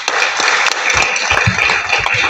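Audience at the presentation of a human rights organization's annual report claps loudly and continuously, a dense close rattle of hands with a few low thumps mixed in.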